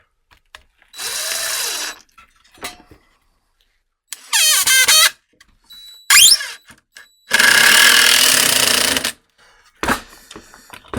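A DeWalt impact driver with a bit holder drives a screw into a wooden knot in several separate bursts, each a loud whirring, hammering run with short pauses between, the longest near the end.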